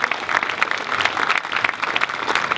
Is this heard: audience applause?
yes